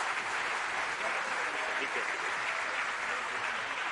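Steady applause from an audience at a college event honoring Dr. A.P.J. Abdul Kalam, a dense continuous wash of many hands clapping at moderate volume with murmuring voices mixed in, sustained evenly throughout.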